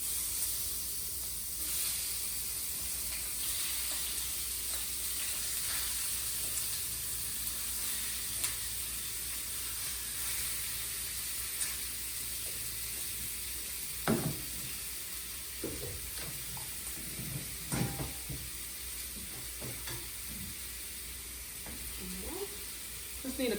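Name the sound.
chicken sizzling as it fries in a skillet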